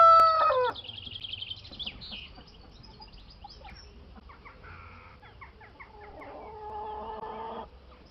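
Rooster crowing sound effect with clucking fowl calls, a clear rising and falling crow followed by shorter squawks, fairly loud and heard alone without speech.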